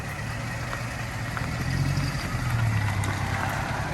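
A Lexus LS430 with a rebuilt transmission driving, its engine a steady low hum and rumble with road noise heard from inside the cabin, constant and moderately loud, with no talking.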